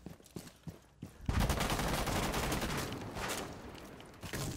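Rainbow Six Siege gunfire, a few sharp single shots followed by a dense sustained burst of rapid fire, loud and close, tapering into scattered shots at the end.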